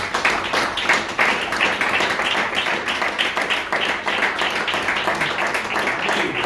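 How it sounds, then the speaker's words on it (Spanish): A church congregation breaks into applause during a sermon, a dense steady patter of many hands clapping together for several seconds. "Yo le doy un aplauso al Señor"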